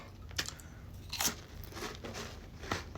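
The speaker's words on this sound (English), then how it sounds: "I'm sorry if I'm crunching on it" Close, crisp crunching as someone bites and chews a snack, several sharp crunches at irregular intervals over a faint steady hiss.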